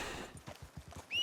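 A Foxtrotter horse walks in Red Dead Redemption 2 with a run of rhythmic clip-clop hoof steps, fairly close and moderately loud. A brief high whinny-like tone rises at the very end.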